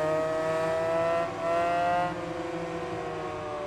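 Racing motorcycle engine in the video game Ride 5, a steady, loud buzzing whine with a brief dip in pitch partway through as the bike shifts and carries on.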